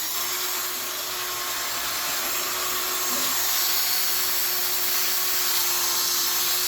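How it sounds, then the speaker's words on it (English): Sandpaper being worked by hand over the plastic lens of a 2010 Subaru Forester headlamp, a steady, close, continuous abrasive hiss with no pauses and no voices. "I'm effectively sanding it down, getting all the top layer off with all these different grits of sandpaper"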